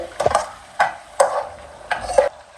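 Spatula scraping and stirring ginger-garlic paste in a hot pan, five short scraping strokes with a faint sizzle underneath, close by, no talking.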